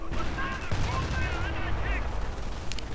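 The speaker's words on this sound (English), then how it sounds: "now we're seeing heavy rocket artillery against the Pershing, but most of it actually misses" Heavy rocket artillery and gunfire in Company of Heroes fired at a Pershing tank, loud dense bursts and rumbling impacts running under steady talk from a commentator.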